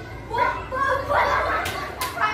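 In a classroom, a voice imitates a duck's quack in several short nasal bursts, close and fairly loud. Other children's voices and brief noises sound in the background.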